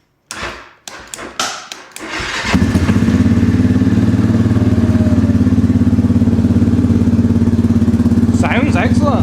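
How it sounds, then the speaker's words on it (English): A fuel pump kicks in on a worn ATV quad when the battery is connected: a few sharp clicks and taps, then a loud, continuous buzzing drone that holds steady to the end. "Can hear the fuel pump kicking in."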